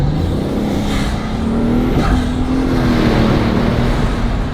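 A loud Bugatti engine drones and revs in a tunnel, echoing, with a sharp gear shift midway before it keeps pulling hard.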